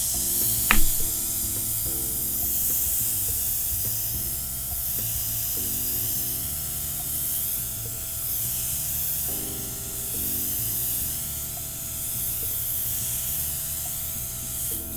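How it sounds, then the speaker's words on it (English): A steady, soft airy hiss of an airbrush spraying makeup primer continuously onto skin up close, with faint intermittent mechanical hum underneath and no voices. "So I'm just going to spray this out on my skin."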